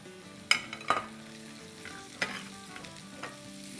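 Half a cup of parboiled frozen corn and half a cup of peas tip into a hot casserole pan, giving a few sharp clattering drops and stirring scrapes over a low, steady sizzle, with no talking.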